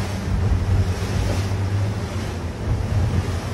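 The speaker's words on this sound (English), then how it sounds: "So there's a wave coming, so I'm gonna throttle into it" A Chris Craft boat runs offshore between Pompano Beach and Coral Gables, its engine drone and steady rushing water and wind loud and close, with waves slapping the hull throughout.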